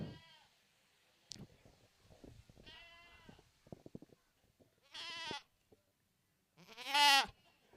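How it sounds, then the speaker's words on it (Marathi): A goat bleats at an outdoor village cricket tournament, giving several separate wavering calls with pauses between them. The final bleat is the longest and loudest. "बघितला असेल बकऱ्याचा आवाज"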